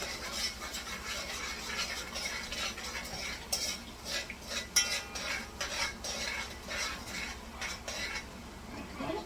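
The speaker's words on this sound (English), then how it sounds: "Just give that a stir too." Rice mixture with salt being stirred in a cooking pot for Puerto Rican arroz con gandules, with repeated scraping and clinking of a utensil against the pot over a steady low background hum.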